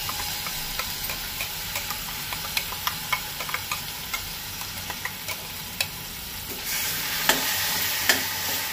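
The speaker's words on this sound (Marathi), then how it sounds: "आतां ते फोडणेचेर आंबाडे बरें चाळून घेता." Ambade (hog plums) stir-fried in a Goan tempering: a soft continuous sizzle dotted with many quick, light clicks and scrapes of the stirring spoon, fairly quiet and without speech.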